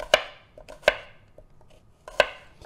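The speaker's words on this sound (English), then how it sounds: "Get an apple diced up, take the sticker off first, and wash it." Knife chopping an apple into slices on a board: three sharp, loud chops with a few lighter taps between them, close up with no talking.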